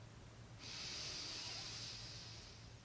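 A slow, deep belly inhale drawn through the nose using the diaphragm, a single steady airy breath lasting about two seconds, close and soft against quiet room hum.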